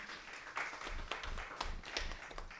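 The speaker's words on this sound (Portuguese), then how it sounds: "Uma salva de palmas." An audience at a climate emergency committee session applauds a guest civil engineer, a faint round of clapping with distinct individual hand claps and low rumbling thumps.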